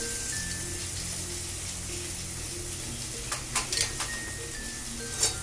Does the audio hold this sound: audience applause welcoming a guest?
no